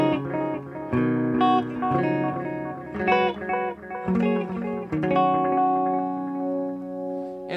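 A guitar played through a Digitech Hardwire DL-8 pedal on its analog delay setting rings out in melodic phrases. Each note repeats and trails off into fading echoes with a chorused, reverberant wash.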